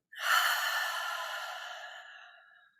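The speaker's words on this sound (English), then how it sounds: "breathe out and let it all go" A single long, deep exhale during guided meditation, a soft airy breath that swells quickly and then fades slowly over about two and a half seconds, close and quiet with no talking.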